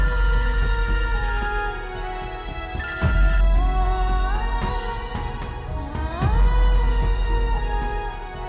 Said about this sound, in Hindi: दहशत हो रही है मुझे इस फोन की आवाज सुनकर।